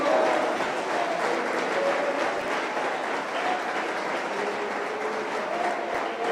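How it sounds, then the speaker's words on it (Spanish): Sustained applause from a church congregation during a worship service in Bogotá, a steady dense clatter of many hands filling the whole stretch at even loudness with no speech over it. "Podemos darle un aplauso a ese Dios poderoso"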